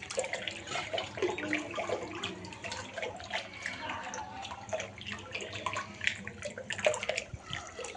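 A soft, continuous rush and splash of water runs into a small fish pond, faint and steady with light trickling detail.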